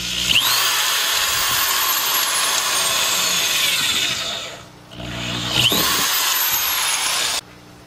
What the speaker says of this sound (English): I'm going to drill one more hole through here for our air line